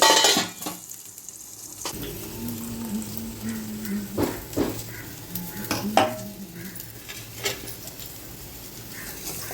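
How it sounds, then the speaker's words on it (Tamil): Raw plantain slices fry in a pan, a steady low sizzle with a few clinks and scrapes of a spoon stirring against the metal, close by and moderately loud, no voices. "நெக்ஸ்ட்டு வாழைக்காய் ஃப்ரை ஆகிட்டுருக்கு."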